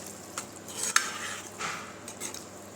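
Kasuri methi crushed by hand is stirred into Kathiyawadi-style bottle gourd curry. Soft, close scrapes of a spoon against the pot come through, with one sharp clink and a faint sizzle underneath, and no talking.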